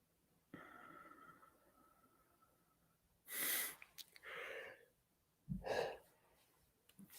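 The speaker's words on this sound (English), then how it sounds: "Okay, there's the yawn" A single person yawns close by in a quiet room, drawing breath in and releasing it in a few soft, breathy bursts with long pauses between.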